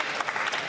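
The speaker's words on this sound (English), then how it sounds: "I invite all members to join me in applauding everyone involved with the 2024 Newfoundland and Labrador Summer Games" Members of a legislature applaud in the chamber, a brief, steady wash of clapping with no distinct voices.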